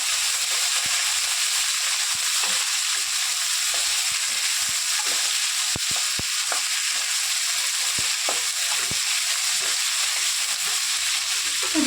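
Onions and tamarind fry lightly in hot oil, giving a steady, even sizzle with scattered small pops and crackles throughout, close up and with no talking.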